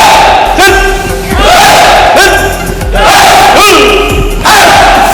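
Loud group shouts in unison, repeated several times with heavy thuds underneath, like a Hapkido class yelling while punching.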